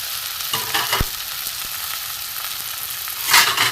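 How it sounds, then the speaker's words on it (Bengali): A spice mix for a banana-stem chop frying in a pan, giving a continuous crackling sizzle with a few sharp pops and a louder spatter near the end. "এবার আমি মশলাটাকে করে নেবো, একটু ভেজে নেবো ভালো করে"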